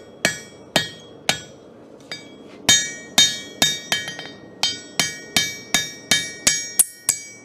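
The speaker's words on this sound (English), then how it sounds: "Now, I'm hammering on the flat over and over," Repeated hammer blows on steel worked flat during a hammer-in demonstration, about fifteen sharp ringing metallic strikes in a steady, slightly uneven rhythm, close and loud with short decays and no talking.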